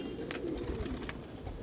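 Rampur pigeons, old rare color breeds, coo in a short low burst close by, with a few sharp higher chirps and light background noise.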